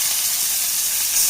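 Cut pieces of fish dropped into hot oil for a Kerala-style meen fry give a steady, close, bright sizzling hiss that stays continuous throughout and swells slightly at the very end, with no voices.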